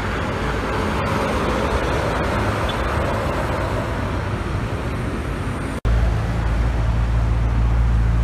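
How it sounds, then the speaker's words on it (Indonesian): Gudang Garam truck rolling past on a road amid traffic, a continuous loud roadway rumble with an abrupt cut and heavier low engine drone near the end. "Wah, ini ada truk gantengnya Gudang Garam."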